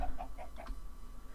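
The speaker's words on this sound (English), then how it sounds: "Oh, parrots." Parrots in the video game Minecraft give a few quick squawking chirps in a short burst, close and moderately quiet, then fade out.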